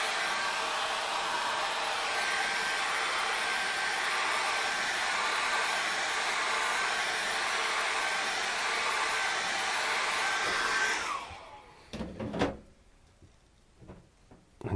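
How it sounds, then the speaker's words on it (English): A hairdryer blows steadily up close to dry an acrylic landscape painting, a constant loud whoosh that cuts off after about eleven seconds, followed by a few knocks and handling sounds. "magically get my hairdryer and just give that a quick zip"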